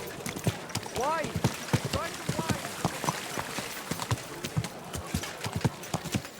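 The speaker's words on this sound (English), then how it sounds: "Easy, good horse." Horse hooves clip-clop in a steady quick rhythm in the medieval game Kingdom Come Deliverance II, joined by a short whinny, with a voice talking over the hoofbeats.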